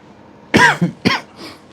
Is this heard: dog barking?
no